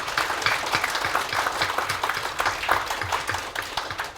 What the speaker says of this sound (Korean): 김명구 박사님께 한번 또 큰 박수를 좀